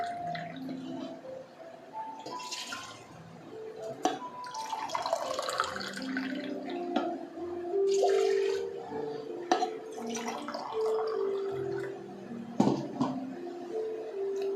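Water splashes and trickles into a pan in uneven bursts while measuring water for red poha kesari, with light clinks of metal and a few soft drips, close and fairly quiet.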